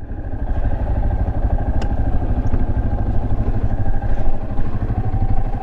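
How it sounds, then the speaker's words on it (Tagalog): Yamaha Serrow 250 trail motorcycle engine running close by on a muddy nature trip, a steady throbbing mid-pitched rumble with mechanical clatter, loud and continuous without speech. "Ang lakas ng motor na to."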